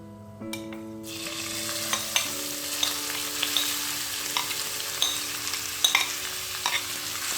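Chopped onion hits hot oil in a pan for braised potatoes and starts frying with a sudden hiss that settles into a steady close sizzle, broken by occasional spoon clinks and stirring; no talking.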